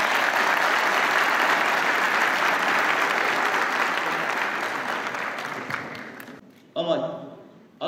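Applause from an audience at a political speech by a minister at a university fills the hall, dense sustained clapping that gradually fades and gives way to a voice.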